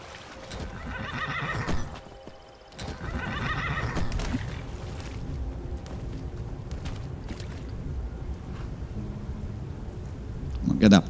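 Horse neighing in Skyrim, two clear whinnies early on over game ambience, with rumbling movement and a brief knock near the end; spoken voice runs underneath.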